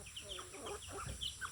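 Mother hen with three chicks in a backyard flock, clucking in soft repeated bursts with thin high chick peeps scattered throughout, close by, with a voice talking faintly underneath.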